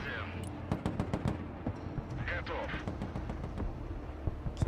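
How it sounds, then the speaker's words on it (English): Artillery and gunfire in the Broken Arrow strategy game crack out as many sharp, repeated reports, some rapid like machine-gun bursts, under steady battle ambience with occasional radio-like voice effects. "now we can use our artillery"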